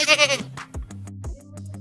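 Goat bleating in a children's alphabet song, a quick wavering bleat at the start followed by music with sung notes.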